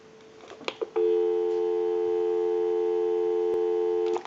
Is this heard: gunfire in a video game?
no